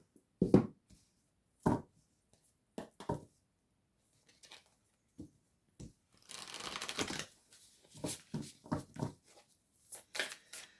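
An Oracle du Cantique deck of oracle cards being shuffled by hand in a quiet room: soft, separate riffles and taps with pauses between, then a longer run of brushing shuffles and quick card flicks.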